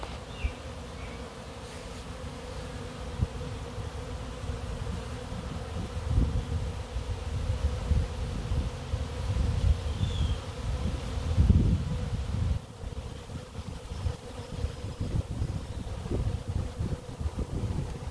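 A large swarm of honey bees buzzes in a beekeeper's yard near a chicken-manure compost heap, a dense continuous drone with individual bees passing close, under light wind buffeting, and no talking.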